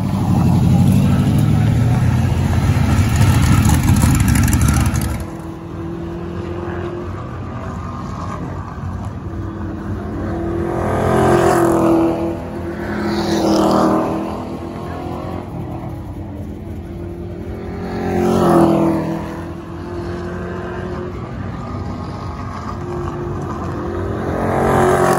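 A race car circles a local short track, opening with a loud close engine roar that cuts off, then the motor swells and fades as it passes by on laps, heard from outside the track.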